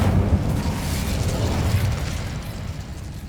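An Incendio fire spell in Hogwarts Legacy gives a continuous dense whooshing, crackling burst of flame, loud and steady throughout with no voices.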